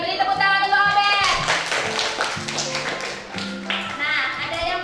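A classroom of students claps for a classmate, a burst of hand claps close by, mixed with a teacher talking over it.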